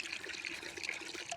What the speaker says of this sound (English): Now pour the water into the saucer.